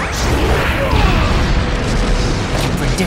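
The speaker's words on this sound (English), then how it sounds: "Fire style! Phoenix fire jutsu!" Fiery bursts roar in Naruto Shippuden Ninja Storm 4 as a Phoenix fire jutsu attack unleashes, a loud, close whooshing blaze with rumbling booms and sweeping effects, while character voices shout over it.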